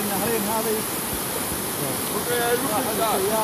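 Two rivers meeting at one estuary give off a constant broad rushing roar of flowing water, with people's voices talking faintly over it.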